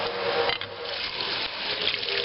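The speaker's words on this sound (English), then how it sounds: "You can shake it under the hot water like so." Part of a Nostalgia Electrics cotton candy machine is rinsed under hot running tap water, a steady close splashing hiss with brief shifts as the piece is shaken in the stream.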